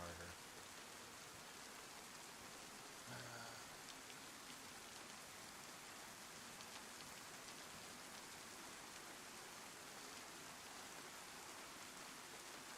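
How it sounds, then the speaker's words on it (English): Steady, dense rain falls in the survival game DayZ, an even hiss of drops that holds without a break the whole way through, with a faint low thud near the start. "it's raining harder."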